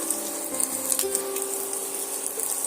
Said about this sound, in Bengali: ডিমটা আমার এখানে ভাজা হয়ে গেছে